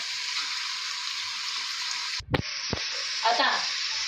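Carrots and mixed vegetables sautéing in a pan for veg pulao give a steady, even sizzle throughout, broken by a couple of short clanks and a brief stirring scrape near the end.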